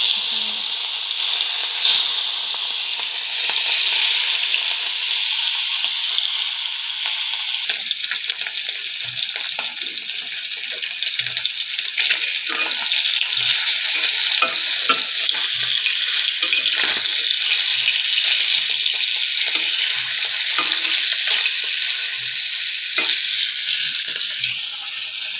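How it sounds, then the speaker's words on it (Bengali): Hilsa fish fries in hot oil, a loud, steady broadband hiss with scattered small pops and crackles continuing throughout. "ইলিশ মাছ ভাজার জন্য এখানে আমি তেল দিয়েছি।"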